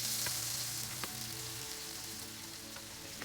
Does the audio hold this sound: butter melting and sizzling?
yes